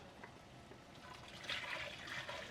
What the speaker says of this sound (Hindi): ये कलूल का पानी इसमें ज़रा ऐड कर लेंगे